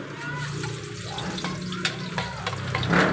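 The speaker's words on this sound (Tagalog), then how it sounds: "So ilagay na natin yung bawang natin" Garlic hitting a hot pan (kawali) for adobong kangkong gives a steady, close sizzle with sputtering crackles that swell toward the end. A voice talks faintly underneath.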